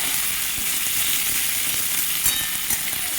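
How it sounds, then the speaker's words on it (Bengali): Chopped onion, garlic and dried red chilli hit hot oil for a spiced masoor dal, giving a loud, continuous close-up sizzle with no talking. "তেল গরম হয়ে গেছে, দিয়ে দেবো পেঁয়াজ কুচি, রসুন কুচি ও শুকনো লঙ্কা।"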